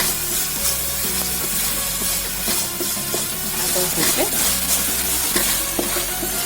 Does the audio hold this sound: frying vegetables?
yes